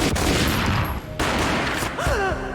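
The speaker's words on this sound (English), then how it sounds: "A gunshot boomed and she fell down in slow motion" Loud, close gunfire in the Max Payne PC shooter: a dense booming volley that breaks off briefly and resumes, with a ringing, whistling tail near the end.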